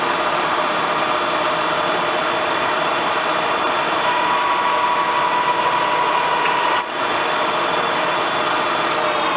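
A power drill with a 5/8-inch bit bores metal, whirring at a loud, steady pitch throughout, with one brief dip near the end, and no voices.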